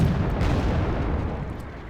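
Tank guns fire in the video game Wargame: Airland Battle, heavy booming blasts rolling together with deep low rumble, loud and dense over a couple of seconds.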